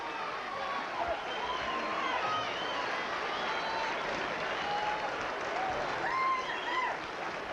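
Boxing arena crowd applauding and cheering after a Roy Jones Jr vs Bernard Hopkins fight, a dense, steady wall of clapping with whistles over it, and faint voices mixed in.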